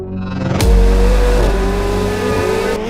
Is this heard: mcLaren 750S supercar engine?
yes